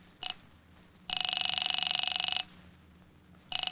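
A telephone rings in long electronic trills, one full ring between short fragments, heard faintly with a low background hum.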